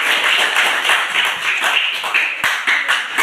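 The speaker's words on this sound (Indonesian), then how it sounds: "tepuk tangan untuk kelompok" A crowd of people applauding a group presentation in a school classroom, dense overlapping claps sustained for a few seconds, fairly loud and close.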